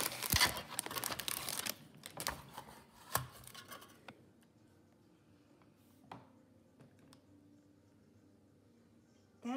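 Paper wrapper of a giant Reese's peanut butter cup crinkles and tears close up, a burst of rustling at first that thins to scattered rubs and crackles.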